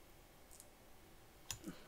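A single faint computer mouse click near the end, followed by a softer second click, on a quiet background during astrophotography stacking software use.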